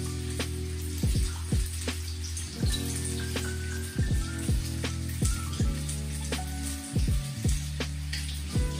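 Chicken fillets fry gently in a pan on low heat, giving a soft, steady sizzle beneath background music with recurring swooping tones.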